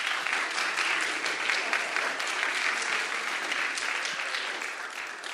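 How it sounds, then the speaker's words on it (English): Steady applause from a conference audience in front of an event stage, a dense, even wash of clapping that holds throughout and fades slightly at the end, with no talking over it. "Can I get a round of applause?"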